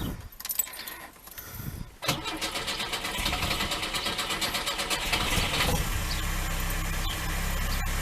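A Lada 2102 engine cranks and catches after a brief rattle of keys at the ignition, then settles into a loud, steady idle close by with a slight miss.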